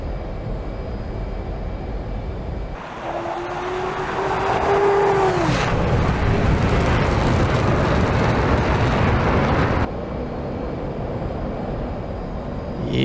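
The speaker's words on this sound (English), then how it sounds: "And first takeoff, actual takeoff with the Hornet" F/A-18 Hornet jet taking off in the DCS combat flight simulator: a loud, steady engine roar swells in with a brief rising whine, holds as a broad rumble, then drops back to a lower drone.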